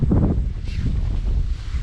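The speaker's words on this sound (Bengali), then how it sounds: "এই জায়গায় প্রচুর বাতাস" Strong wind in the hills around Dim Pahar buffets the microphone with a steady, loud low rumble that lasts the whole stretch; no one speaks.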